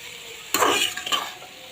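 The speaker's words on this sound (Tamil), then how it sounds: "இதை வந்து கொஞ்சம் மீடியம் ஃப்ளேமில் வச்சு நல்லா அப்படியே மிக்ஸ் பண்ணி கொஞ்சம் வேக வைக்கணும்" Capsicum, beans and carrot tossed in a pan over medium flame give a brief scraping stir with a soft sizzle, two quick bursts close by against a low background hiss.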